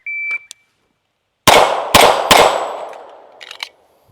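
Pistol shots from an Alpha American AAF3 2011 pistol ring out in quick succession and strike a steel dueling tree, three loud close cracks with ringing metallic decay, preceded by a brief shot-timer beep.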